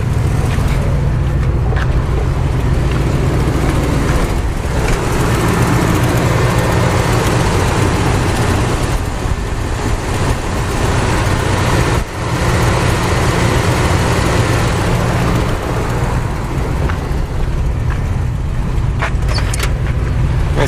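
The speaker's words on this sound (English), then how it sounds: "Let's go listen to the engine." The engine of a 1977 Chevrolet Silverado truck runs at a steady idle, a loud, low, even rumble heard up close with only slight dips in level.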